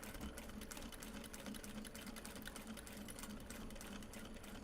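A sewing machine stitches a seam through thick obi fabric, running continuously with a fast, even mechanical whir and rapid needle rhythm, steady and fairly quiet.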